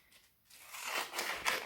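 A few quick crisp snips of scissors cutting through material, close by and fairly loud, with the first half almost silent.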